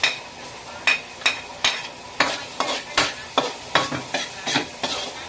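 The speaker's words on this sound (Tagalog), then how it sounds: "Ilagay natin ang bawang. Tapos sibuyas." Garlic and onion sautéing in a pan: a constant oily sizzle with regular, crisp stirring scrapes repeating about twice a second, close and clear, with no voices.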